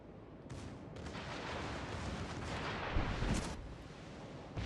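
Secondary guns on a warship fire in World of Warships: Legends, a rumbling barrage of overlapping booms and blasts rolling on for several seconds, with no talk.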